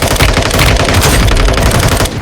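Dense, continuous automatic gunfire in the battle royale game Warzone Mobile, loud and unbroken rapid bursts running throughout with no speech.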